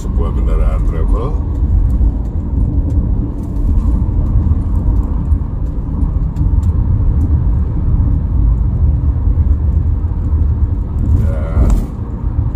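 A travel vehicle cruising along the Trans Java toll road near Cipali and Cirebon, a steady low road rumble and engine drone throughout, with someone narrating over it.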